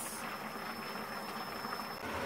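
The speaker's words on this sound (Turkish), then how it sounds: "Öyle sadece suyunu kurutacağız. Kuruyuncaya kadar biz bunu pişireceğiz." Chicken karahi simmers uncovered in a pan as its liquid cooks down, giving a steady soft bubbling hiss that stays even and fairly quiet throughout with no talking.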